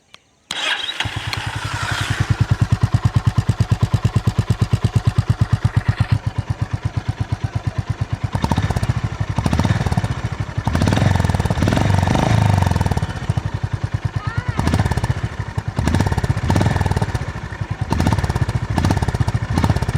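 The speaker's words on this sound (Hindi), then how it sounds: "you're getting a perfect single cylinder thump" Honda CB350 single-cylinder motorcycle engine idling and revving up close, with a steady deep thumping beat that swells into louder throttle blips and then settles.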